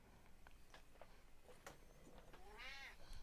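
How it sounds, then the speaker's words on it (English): An agitated cat meows indoors, a few short calls followed by a longer drawn-out meow, close and moderately loud over faint background noise. "we've got an angry kitty that needs some attention"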